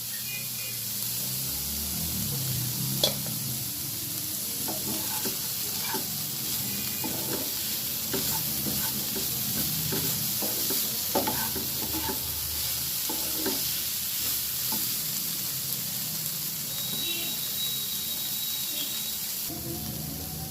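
Steady sizzling of broccoli frying in a pan with white sesame seeds, with scattered clinks and scrapes of stirring throughout; no one speaks.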